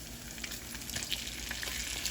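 Half a small onion, sliced thin, frying with bacon in a pan, giving a soft, steady crackling sizzle with scattered pops, fairly quiet and close, with no talk.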